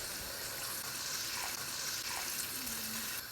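Water poured into mutton meatballs frying in a pan for a curry, a steady loud hiss and sizzle filling the whole stretch with faint bubbling.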